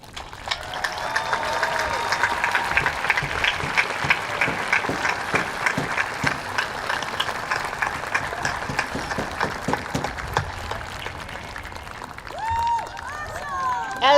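Applause at an outdoor high school graduation ceremony in a stadium, a sustained crowd clapping at steady loudness with scattered cheers, fading slightly toward the end as other sounds rise.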